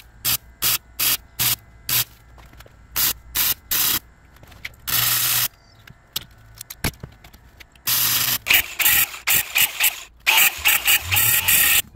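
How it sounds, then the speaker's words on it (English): Welding a tab onto a new rear upper control arm for a Jeep Commander XK: repeated loud crackling bursts of a few seconds each, separated by short silences, with a longer continuous run near the end. "I welded the old tab onto my new control arms"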